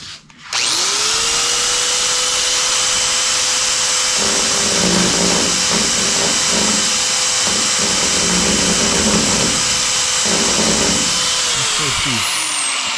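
A high-speed power tool deburrs a part for a 1969 Dodge Charger R/T 440 restoration, whining up loudly and spinning steadily, with grinding contact sounds in bursts before it winds down at the end.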